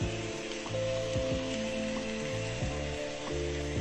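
Potato pancakes (deruny) fry in a pan with oil, a steady close sizzle and crackle overlaid by a low repeating hum that shifts pitch, with no talk.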